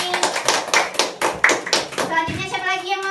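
Classroom applause for a student named Dani during a fifth-grade lesson, a burst of many hands clapping in quick irregular rhythm for about two seconds, with a voice and talk continuing afterward.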